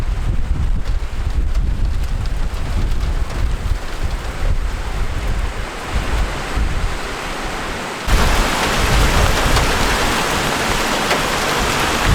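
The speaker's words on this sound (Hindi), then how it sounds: "तो बारिश स्टार्ट हो गई है" Steady rain falling at a riverside van camp, a dense continuous hiss that grows brighter and heavier partway through, with no voices.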